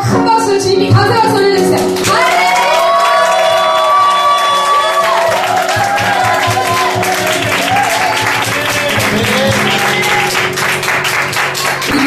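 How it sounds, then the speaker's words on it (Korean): A church congregation cheers and applauds loudly and steadily, with a dense wash of clapping, scattered shouts and voices rising over it, while a sustained musical tone runs underneath. "더 큰 환호성과 더 큰 박수를 주님이 가세요."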